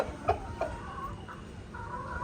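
An Aseel rooster of about three kilograms gives a few short clucks over a steady background hum, close and moderately loud.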